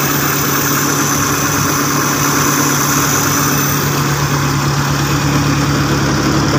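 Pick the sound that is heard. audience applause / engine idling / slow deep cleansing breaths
engine idling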